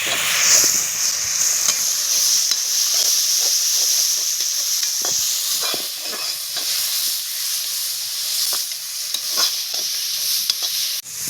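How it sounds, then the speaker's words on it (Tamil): Steady loud sizzling of tomatoes sautéing in a hot pan with chillies, with scraping stirring strokes throughout and no talking. "தக்காளி நல்லா வதக்கிக்கலாம்."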